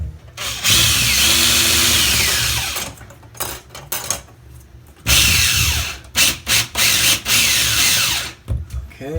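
A cordless power drill drives a screw to mount a smoke detector, running in a long loud burst, then a series of short stuttering pulses and another sustained whir. Faint talk sits under the tool between bursts.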